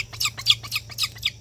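A young eagle chick that has fallen from its nest onto dry leaves and ground gives a string of thin, high chirping cries. The cries come in quick repeated bursts, close and fairly soft, with no talking over them.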